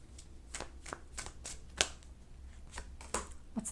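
Tarot guidance cards are shuffled by hand, close and quiet, giving a series of crisp riffling slaps and flicks at an irregular pace.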